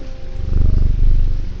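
A cat purrs in the video game Strange Antiquities, a steady low rumble that swells and holds close and fairly loud for a moment over faint background tones.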